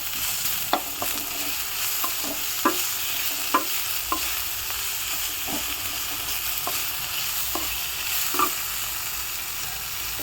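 Onions frying in a pan for an egg gravy, a continuous soft sizzle under regular scraping stirs of a spatula roughly every second, close and moderate, with no talking.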